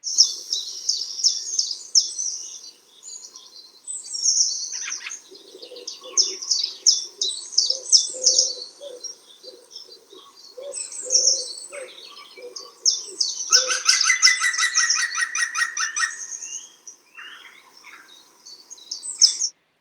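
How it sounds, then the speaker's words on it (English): Green woodpecker calls and chirps ring out in bursts over a quiet background, with a loud run of rapid repeated yaffle notes in the middle. "that is the very distinct yaffle of the green woodpecker"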